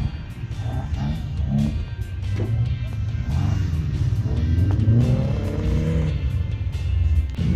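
A car engine revs hard and repeatedly during flag racing at an Australian outback burnout competition, loud and close, with rising and falling throttle sweeps and no talk over it.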